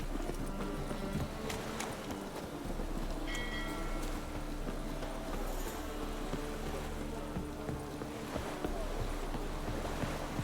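Rain falling steadily at the docks in The Witcher 3, a dense, constant wash of hiss and patter with faint water sounds beneath, loud and continuous throughout without talk.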